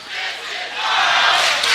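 Home crowd at a high school varsity men's basketball game in a gym, a loud sustained roar of yelling and cheering that swells slightly midway.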